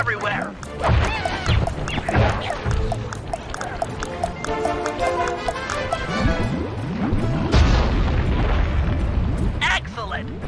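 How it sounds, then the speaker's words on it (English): A dynamite blast in Sly 3 tears apart a balloon anchor above Venice, heavy booms and crashing debris rolling on for seconds amid layered game music and sound effects. "Place the dynamite when you get near the anchor, or kaboom!"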